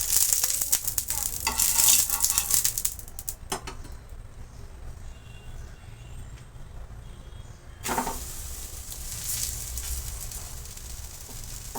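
Bottle gourd thalipeeth fries in oil in a pan on a gas stove, a close steady sizzle with crackles and scraping early on, easing quieter before a louder burst of frying returns, no voices.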